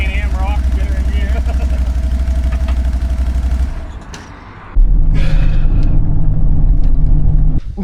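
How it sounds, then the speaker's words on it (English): A 2022 Can-Am Outlander 570 MAX ATV engine runs with a loud, steady low rumble, dips briefly as it is put in gear, then surges back to a strong drone; voices talk over it. "See the CanAm rock, get her in gear."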